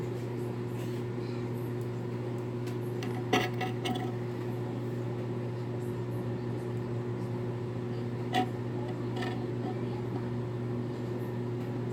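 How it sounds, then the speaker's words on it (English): Metal feeding tongs holding a mealworm knock on a glass enclosure, giving two brief, sharp clinks several seconds apart over a steady low electrical hum. "I try to be easy with the tongs on the glass"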